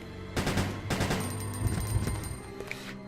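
Rapid gunfire in the survival-horror video game Resident Evil Code: Veronica X as a zombie is shot: several sharp, loud shots in quick succession over a steady game background, with no talking.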